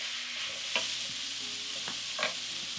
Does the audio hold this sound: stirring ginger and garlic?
yes